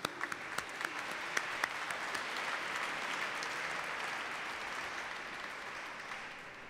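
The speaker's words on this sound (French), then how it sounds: "Oui, on peut l'applaudir." A church congregation at a youth Mass applauds, sharp individual claps at first quickly merging into a full, even roar of clapping that holds steady and tapers slightly at the end, fairly distant and reverberant.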